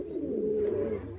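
Pigeons or doves coo in a steady, low, throaty call that runs close and fairly loud for just over a second, with no talk over it.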